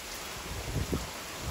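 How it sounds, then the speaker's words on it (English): A Texas rain storm with gusting wind, steady rain hiss under low rumbling buffets of wind, fairly faint and continuous with no talk. "getting a little bit more rain over here"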